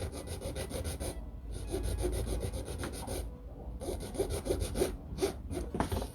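Nail file rasping across a polygel nail in repeated short back-and-forth strokes, close and steady, with brief pauses between bursts.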